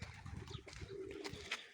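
Pigeons coo softly in an aviary also housing pheasants and Java chickens, low murmuring calls with light rustling and a few faint chirps, quiet and close.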